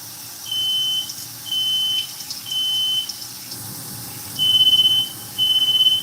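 A smoke alarm set off by cooking oil sounds in repeated high beeping bursts, five in a row with short gaps, over a quiet background of running water in a kitchen.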